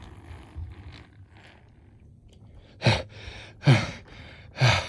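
Three heavy, breathy exhalations come at steady intervals after a quiet stretch, close and loud, like someone panting hard.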